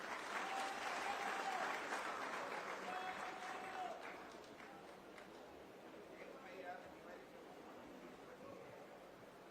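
An indoor audience at a government outreach event applauds to welcome an honoured guest, broad clapping that starts full and gradually thins out, with a voice talking faintly in the background.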